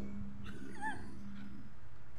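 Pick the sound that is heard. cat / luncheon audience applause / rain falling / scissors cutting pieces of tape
cat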